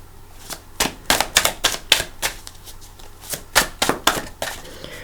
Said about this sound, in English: And I am going to shuffle for your cards.